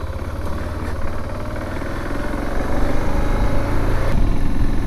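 A motorcycle engine runs steadily close by, with a low, even drone that rises slightly and grows louder as the rider pulls away.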